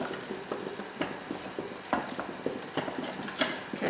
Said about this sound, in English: you're going to just carry on stirring just until it's all melted